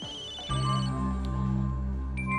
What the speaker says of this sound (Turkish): Telefonu mu çalıyor bunun?